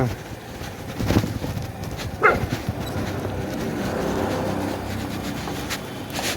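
Dogs barking near an engineering college campus in Khuskibagh, Purnea, a few scattered barks and yips over a steady outdoor background, moderately distant, with faint voices mixed in.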